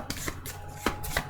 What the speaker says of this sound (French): je mélange les cartes pour savoir quel signe va être mis à l'honneur